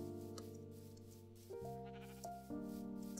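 Minecraft sheep bleating in a survival world, several drawn-out wavering bleats in succession with shifting pitch, clear and close with no talk.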